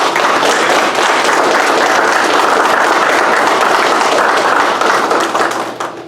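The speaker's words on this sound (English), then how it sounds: "I'd like to give our instructors, your instructors, a round of applause just to say thank you." Graduation ceremony audience giving the instructors a round of applause, a loud, dense and continuous wall of clapping that holds steady and tapers off at the very end.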